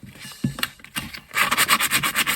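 Hand sanding of a rusty kitchen knife blade with coarse 400-grit sandpaper: a few scattered scrapes at first, then a run of quick rhythmic back-and-forth rubbing strokes, close and clear, with no talking.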